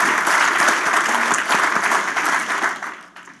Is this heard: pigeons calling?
no